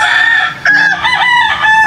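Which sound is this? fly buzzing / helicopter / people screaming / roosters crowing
roosters crowing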